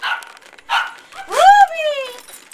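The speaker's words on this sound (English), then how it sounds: "Sounds like ferocious dogs." Dogs bark and whine close by, with short harsh bursts and then a rising, drawn-out yelp. A person speaks over part of it.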